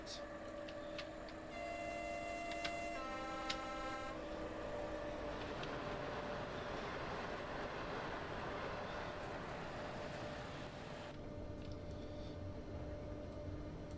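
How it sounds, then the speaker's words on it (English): Soviet-era, boxy Skoda-built Eastern Bloc locomotive in a train simulator game, running at line speed: a steady engine and rail rumble throughout, with a brief stepped horn or whistle toot near the start. "Very boxy Soviet era locomotive. The Eastern Bloc, of course, Skoda built."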